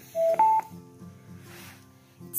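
A DeWalt 20V Bluetooth speaker with built-in inflator chimes as it connects: two short, clear electronic tones in quick succession, then quiet low background sound.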